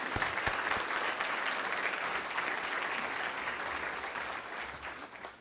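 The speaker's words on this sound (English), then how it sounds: "Let's give them a round of applause." Audience at a spring general assembly applauding, a dense, steady wash of clapping from a crowd at moderate distance, fading slightly toward the end, with no voices over it.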